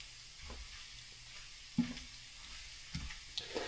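Bacon fries in a pan with a soft, steady sizzle while it is stirred. Occasional scrapes and taps of the utensil against the pan cut through, and no one talks.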